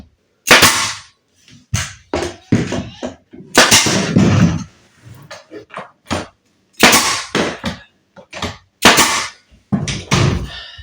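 A staple gun fires repeatedly while bathroom baseboards are replaced, producing loud, close, sharp snapping bangs in irregular bursts with short pauses between them.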